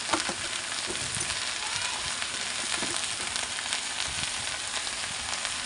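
Korean-style noodles and meat stir-frying in a hot pan, a steady dense sizzle with small crackles and the occasional stir, even and close, with no talking.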